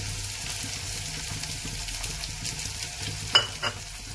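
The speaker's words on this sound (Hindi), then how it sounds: "अदरक लहसुन का पेस्ट हमारा पक चुका है, तो अब इस पे बारी है प्याज ऐड कर देते हैं।" Finely chopped onions go into a pan of cooked ginger-garlic paste for a besan and soya curry, giving a steady close sizzle with light stirring and a couple of brief knocks near the end.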